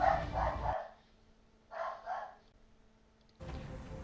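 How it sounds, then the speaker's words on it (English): A pet dog barks at a car going past outside, a short burst of loud nearby barks at the start and a quieter pair of barks a moment later, with a quiet stretch between. "my dumbass dog went and barked at a car that went past"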